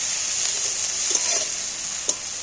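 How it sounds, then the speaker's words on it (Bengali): Onions and garlic paste fry in hot oil, a continuous bright sizzle with a few soft stirring clicks against the pan, close and alone. "একটু নাড়াচাড়া করে তেলের পেঁয়াজের সাথে নেড়ে ভেজে নেব।"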